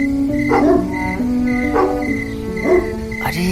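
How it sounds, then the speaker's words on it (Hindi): A dog barks and yips a few times in a short burst of repeated calls, fairly close and clear, in a dramatized story scene. "अरे यार, ये कुत्ता कहाँ भौंक रहा है?"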